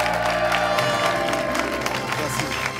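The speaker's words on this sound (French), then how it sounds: "on peut l'applaudir" A live audience at a Miss France pageant applauds and cheers for Miss Occitanie, with steady clapping from a crowd filling the whole moment.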